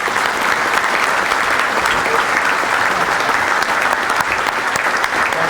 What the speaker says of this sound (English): give Coach Diaco a big welcoming round of applause